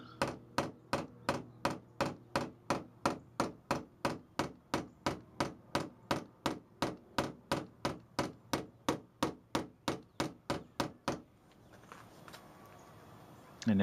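Paintless dent repair on a Chevy Tahoe: a hammer taps the dented panel in a rapid, even series of about thirty sharp metallic knocks, then stops, leaving faint background noise.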